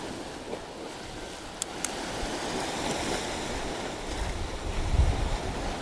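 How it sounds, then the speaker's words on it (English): Gusting wind buffets the microphone over the wash of surf breaking along the shore, growing slightly louder toward the end, with two brief clicks. "the wind is coming, the waves are coming in, the tide's on its way"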